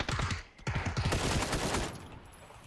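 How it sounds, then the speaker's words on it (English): Rapid bursts of automatic gunfire in PUBG, a squad battle-royale shooter, fired as cover fire, loud and close, with a brief gap before a second sustained volley that tails off. "I'll provide cover fire."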